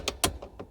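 A spanner working a nut loose on a Mustang gives a few quick, close metallic clicks and ratcheting ticks, uneven in spacing and fairly quiet.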